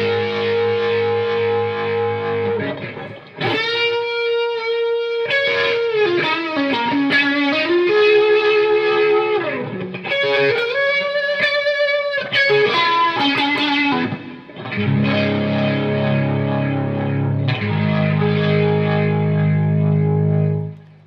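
Electric guitar played through a Dawner Prince Pulse and a Jesse Davis Duelist pedal, loud, distorted and effected with swelling sustained notes, chords and bends, plus reverb and echo tails, with no talking.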